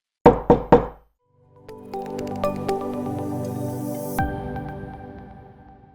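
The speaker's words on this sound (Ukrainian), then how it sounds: "Але стукіт не припинявся." Three sharp, loud knocks on a door land in quick succession, then give way to sustained music.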